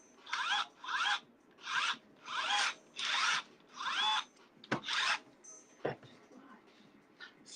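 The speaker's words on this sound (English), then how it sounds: "I drill a hole with this drill bit on the inside of it" A drill bit bores a hole through a pipe clamped to a table in six even, whirring bursts, each about half a second long. Softer scraping and knocking follow near the end.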